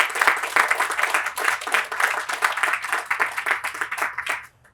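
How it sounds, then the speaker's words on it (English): A crowd claps for a Girl Scout troop at an outdoor playground groundbreaking, brisk and fairly loud applause that carries on steadily before tapering off quickly and stopping near the end. "So let's give them another round of applause."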